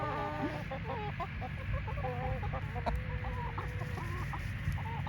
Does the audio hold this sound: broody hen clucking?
yes